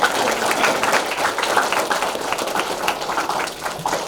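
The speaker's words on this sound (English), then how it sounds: "can we give Lou a round of applause?" An audience applauds a guest speaker at a talk about a cemetery, steady dense clapping from many hands filling the room for the whole stretch.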